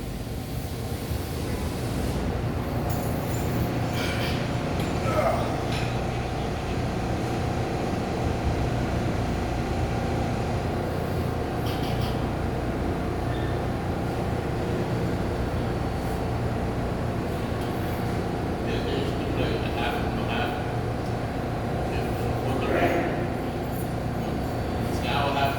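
An R142A subway train on the New York 6 line runs steadily, a continuous rumbling roar with occasional squeals and clanks, while voices talk intermittently inside the car.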